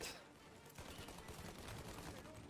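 Rapid gunfire from a weak, underpowered gun in the crime video game Mafia, a steady rattling burst of shots running through the whole stretch at low, muffled level.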